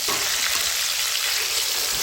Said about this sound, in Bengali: এখন আমি উল্টে অপর পাশটাও ভেজে নিচ্ছি